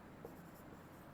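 Pen or chalk writing numbers: a faint, steady scratching and tapping of strokes, close and quiet, with no voice over it.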